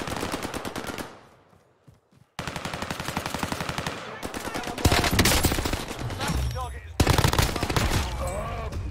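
Video game gunfire in rapid automatic bursts, loud and dense with short pauses between strings of shots, and a voice talking faintly underneath.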